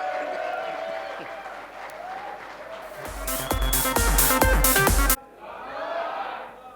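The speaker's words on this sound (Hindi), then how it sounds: "जोर तालियां होनी चाहिए" A room of people breaks into hearty applause, with a burst of loud, dense clapping that runs for a couple of seconds before cutting off, after which a voice continues speaking.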